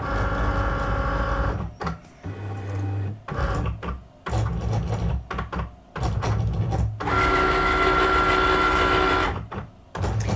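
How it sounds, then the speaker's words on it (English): A Cricut cutting machine whirs and buzzes in bursts while reading registration marks for stickers, with short pauses and carriage shifts as it scans, close and mechanical, no voices. "Now you can hear it, so just bear with me while it cuts."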